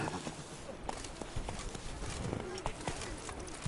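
The horse Roach gallops in The Witcher III, with rapid hoofbeats clattering over a dense game soundscape of ambient noise and effects, and a voice talking over it.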